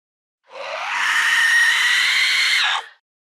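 A single sustained, loud, high-pitched scream from a character in Mass Effect 3, holding steady for about two seconds before cutting off abruptly, heard alone with no talk.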